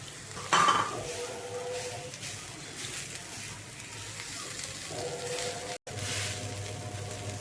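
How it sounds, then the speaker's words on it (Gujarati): Grated coconut being sautéed in ghee in a pan, with a steady soft sizzle and occasional spoon scrapes against the pan, heard close with no talking. "હવે આપણે એમાં છીણેલું કોપરું નાખીશું અને એને વ્યવસ્થિત રીતે સાંતળી લઈશું"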